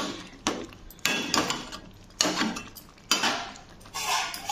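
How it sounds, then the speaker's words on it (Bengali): Potatoes and ridge gourd are chopped with a knife in a home kitchen, giving a handful of sharp, close clacks on a hard surface at uneven intervals, each followed by a short ringing tail. "ততক্ষণ আমি আলু আর ঝিঙেটা কেটে নিচ্ছি"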